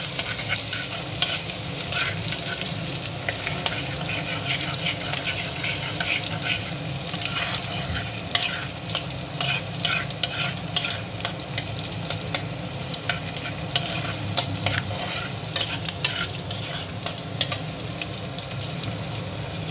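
Chicken pieces for chilli chicken sizzle steadily in hot oil in a pan, with a spatula scraping and stirring in irregular clinks over the continuous frying hiss.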